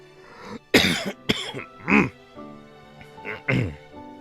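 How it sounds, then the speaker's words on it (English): A cluster of loud, close coughs in quick succession, followed by a few softer throat-clearing coughs. "just immediately cough as soon as I start up the stream"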